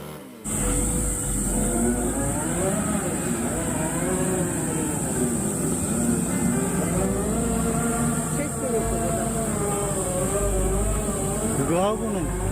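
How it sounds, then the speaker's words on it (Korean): Engine chainsaw cutting through a 50-year-old larch trunk, a loud, steady high-revving drone with wavering pitch as the bar bites and eases through the wood, running continuously with no pause. "지금 엔진 투보로 자르고 있는 것이 이게 50년 된 낙엽송입니다"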